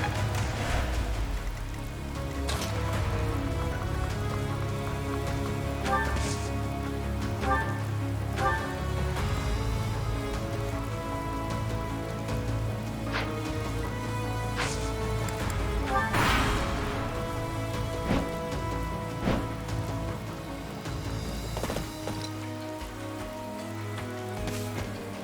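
Rain in the Fire Emblem: Three Houses video game, a steady patter of drops on surfaces with scattered louder splashes and thuds, layered over a low sustained musical drone, with no voices.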